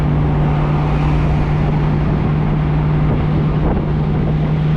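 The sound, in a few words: 1967 Ford Mustang convertible 289 V8 engine exhaust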